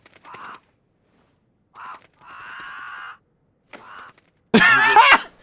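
A crow caws in the video game A Wolfe in Adam's Clothing, three or four separate hoarse calls spaced over a few seconds, then a loud burst of other noise at the end.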